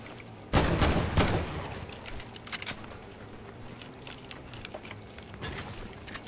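Rapid burst of grenade launcher fire in Genshin Impact gameplay, a loud cluster of booming shots up front followed by scattered lighter pops and clicks, close and punchy with no talking over it.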